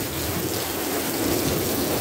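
Steady, dense rain pours during a severe late-night thunderstorm, a broad continuous hiss with a low rumbling underneath and no voices.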